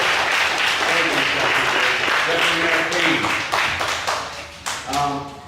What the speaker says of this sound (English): So girls, give yourselves a round of applause.